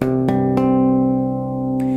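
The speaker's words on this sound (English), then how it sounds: "but we can also play tapped harmonics" Sustained bright bell-like tapped harmonics on bass guitar ringing together, with three sharp percussive taps starting new notes, played alone.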